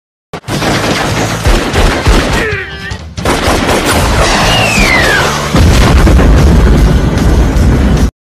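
Heavy gunfire and explosive rounds in a film shootout, dense bursts of shots and booms running loud and close almost without pause, with a brief dip and whistling tones midway.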